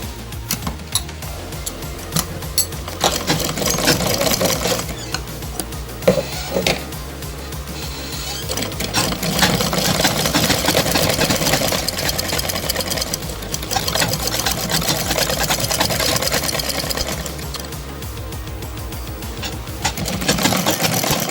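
Electric sewing machine stitching the lower side seam of a kurta, a steady whirring mechanical drone running almost continuously, with brief pauses and speed changes between stitching runs.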